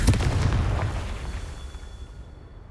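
An explosive spell blast in Hogwarts Legacy erupts as a single loud, deep boom that rolls out and fades over a couple of seconds, heard alone.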